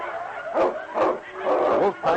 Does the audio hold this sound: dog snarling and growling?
yes